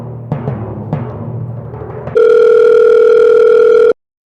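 A telephone heard while a call is being placed: a few low clicks and rumbling handling noises, then a loud, steady dial tone that holds for nearly two seconds before it cuts off abruptly.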